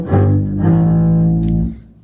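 A deep bowed double bass sustains a single low, rich note, resonant and close, swelling slightly before fading out.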